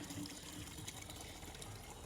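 Faint, continuous rushing of strong water flowing down from higher ground, a soft steady gush with no breaks, heard from a short distance.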